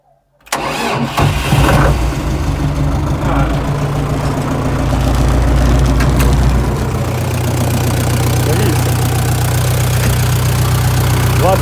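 Tractor engine, with no decompressor, cranking and catching after a short silence, then running steadily with a loud, heavy, low-pitched chug that continues to the end.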